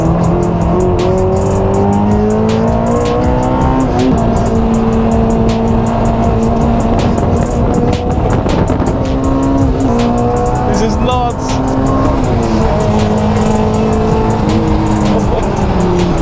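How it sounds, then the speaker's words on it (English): Heard from inside a Honda S2000 on a racetrack, the engine roars loudly and climbs through the revs again and again as the car shifts gears, with tires squealing in the corners. "We go inside the car and we'll see how this thing feels on the track."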